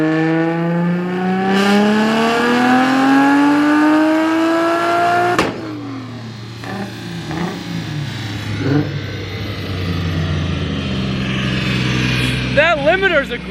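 A Nissan Skyline with an RB25 engine revs hard on a dyno, engine note climbing steadily for about five seconds before cutting sharply, then loud idle, rumble and short blips while people talk close by.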